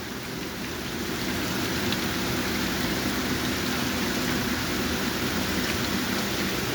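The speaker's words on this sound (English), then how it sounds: "It is literally raining outside." Heavy rain pours outside as a loud, dense, unbroken hiss and patter that stays even throughout, with nothing else standing out.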